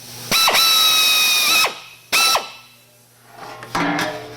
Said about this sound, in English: so now we've got our center hole drilled.